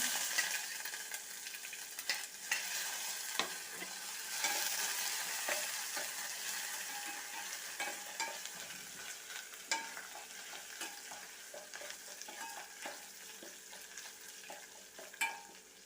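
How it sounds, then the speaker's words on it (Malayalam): Crushed ginger and garlic fry in a pan for rasam, a continuous hissing sizzle with frequent metallic stirring clinks and scrapes, fairly close and fading slightly toward the end, with no talking. "ഇതിലേക്ക് നമുക്ക് ഇഞ്ചിയും വെളുത്തുള്ളിയും ചതച്ചത് ഇട്ട് കൊടുക്കാം"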